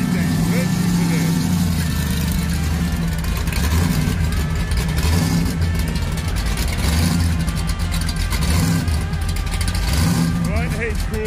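1997 Chevy S10 pickup with a supercharged small-block V8 rumbling loudly, its engine note rising and falling through revs, with people talking over it.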